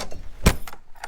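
A single sharp mechanical clunk of a Land Rover door lock, close by, with faint rattling around it.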